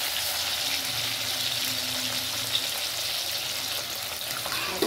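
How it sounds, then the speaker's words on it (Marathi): Surmai fish fillets lightly frying in a pan, a steady close sizzle and crackle of hot oil that runs unbroken throughout, with no talking. "हलका फ्राय करणार याला, जास्त नाही."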